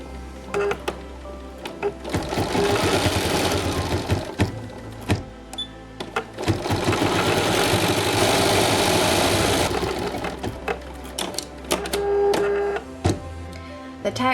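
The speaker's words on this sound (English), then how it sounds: "The tack down stitch has now been stitched" An embroidery machine stitching a tack-down line over appliqué fabric in the hoop, a loud, close, continuous rapid needle chatter and motor whir with rhythmic clicking, briefly pausing and restarting.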